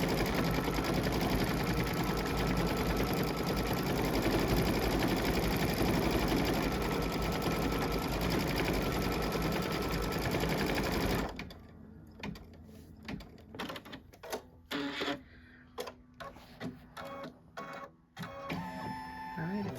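A quilting sewing machine stitches a stipple design in a steady, loud, fast hum for about eleven seconds, then stops, leaving a few quieter clicks and knocks.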